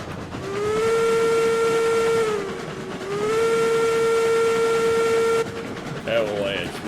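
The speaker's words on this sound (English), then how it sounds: "Avalanche whistle." A steam locomotive whistle in the railroad game RailRoads Online blows two long sustained blasts with a short break between them, loud and near, then gives way to quieter rumbling.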